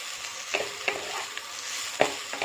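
Neem leaves, potato and eggplant stir-fried in a pan, a soft steady sizzle with several distinct scraping strokes from stirring, heard briefly and up close without talking.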